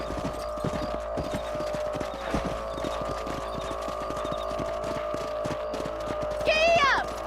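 Horse hooves clip-clop steadily in the video game Red Dead Redemption, a rhythmic trot under a humming music bed, with a whinny near the end.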